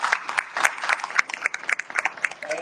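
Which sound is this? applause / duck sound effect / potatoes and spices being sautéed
applause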